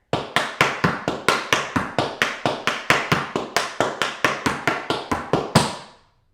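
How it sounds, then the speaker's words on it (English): Tap dance paradiddles built from heel, dig and toe taps: a steady, even stream of crisp, close metallic clicks, about four per second for several seconds, ending on a final stronger tap that rings out, with no talking. "So you really want to watch that heel, that standing heel, and then time your dig and your toe to match the rhythm"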